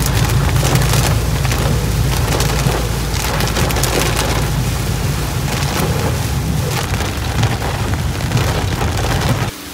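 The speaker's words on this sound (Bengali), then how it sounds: "এই পৌঁছালাম আর কনস্ট্যান্ট বৃষ্টি হচ্ছে।" Steady rain pours continuously on surfaces in Kolkata, a dense, loud, even hiss with occasional sharper patters and low rumbling underneath, no voices.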